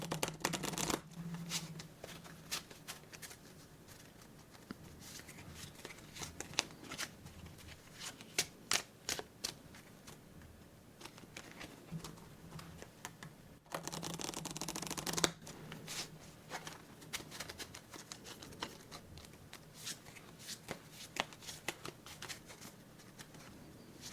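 Sticky playing cards in a solitaire game are handled and shuffled up close, with soft taps, flicks and riffles scattered irregularly and a longer riffling burst midway, all quiet and intimate.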